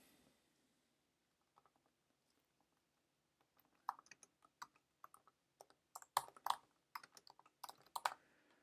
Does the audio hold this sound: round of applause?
no